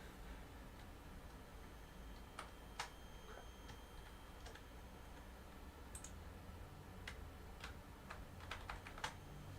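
A computer keyboard is tapped as someone enters a shortcut, giving scattered light clicks of keys over a faint steady background hum. Presses come sporadically, close and quiet, with no one speaking.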